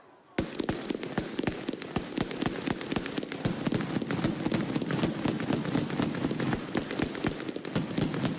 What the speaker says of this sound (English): Hear those fireworks going off?